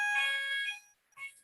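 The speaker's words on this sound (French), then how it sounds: "une sorte d'alarme qui vient de..." Fire alarm sounding in a conference room, a loud high electronic tone that holds for most of a second, stops briefly, then sounds again more faintly, with no talking over it.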